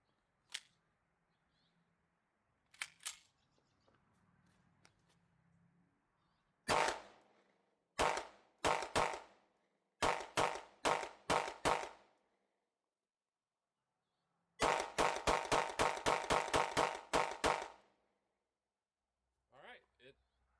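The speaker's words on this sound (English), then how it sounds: "this is going to be the first shots" A Canik TTI pistol fitted with 8 inline ports fires 115 grain MagTech rounds, sharp close reports in bursts: a few spaced single shots, then rapid strings of roughly six and then about ten shots, with quiet gaps between.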